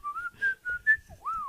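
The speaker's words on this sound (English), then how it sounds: "I get the whistling." A person whistles a short melodic phrase of a few sustained and sliding notes, close and clear with no talking.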